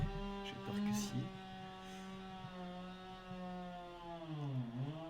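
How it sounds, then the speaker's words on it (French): A chainsaw runs steadily in the background, its pitch dipping briefly near the end, while people talk closer by. "J'espère qu'on n'entend pas trop la tronçonneuse derrière, mais j'ai peur que si."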